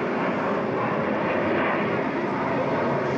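Airplane taking off, a loud steady roar of engines that stays constant and close throughout.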